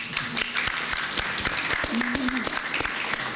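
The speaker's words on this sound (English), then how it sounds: "A round of applause, please." Audience applause at a UNHCR panel discussion on refugees' economic contribution in North America, steady clapping filling the room with a voice briefly audible beneath it.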